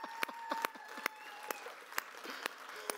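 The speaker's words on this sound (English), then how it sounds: "Let's give Vinny a big round of applause." A small audience at a seminar on growing net worth claps for a guest called up onto the stage. The claps are sparse, faint and scattered, with a few sharp individual hand claps over a low steady hum.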